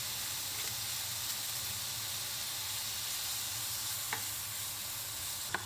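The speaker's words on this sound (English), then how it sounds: "Next, in the same pan, let's cook the pork." Pork sizzles steadily in a pan with yakisoba sauce, a soft even frying hiss with a few faint clicks from stirring, heard alone.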